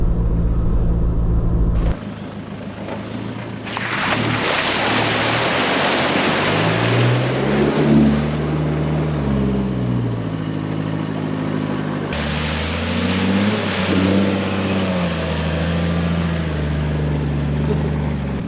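A vehicle fords creeks on Fraser Island: a rough engine drone revs up and down through gear changes over rushing, splashing water, loud and close throughout.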